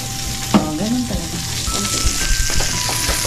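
Garlic fries in a pan while mussels and shrimp in tomato sauce are prepared. A loud, close, continuous sizzle is punctuated by stirring knocks, with a short vocal murmur near the start.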